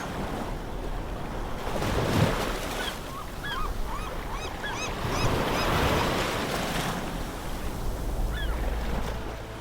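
Ocean surf washes in a steady, roaring rush over nearly ten seconds, with swells rising and falling, some wind buffeting and faint bird-like chirps above the noise.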